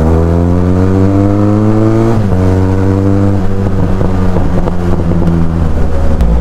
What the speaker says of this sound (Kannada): ಏನು ಗುರು ಧೂಳು ಎಬ್ಬರ್ಸ್ಕೊಂಡು ಹೋಯ್ತಾರೆ ಈ ಬಸ್ಸವರು